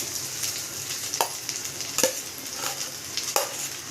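Egg rice sizzles and fries steadily in a pan while a spoon stirs it, with sharp scraping clinks every second or so over the continuous crackle.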